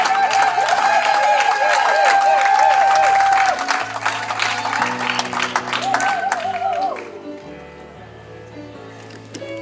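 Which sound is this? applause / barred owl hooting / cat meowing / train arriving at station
applause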